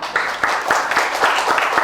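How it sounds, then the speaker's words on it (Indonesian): A class applauds a student group after its presentation, close and fairly loud clapping with a few distinct stronger claps through a short burst. "tepuk tangan untuk teman tiga dah"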